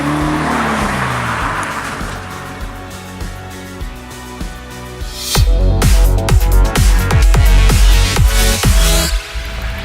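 A car drives past in a loud, close sequence: a revving engine, then a burst of sharp tire noise and repeated thumping as it brakes, with no talking.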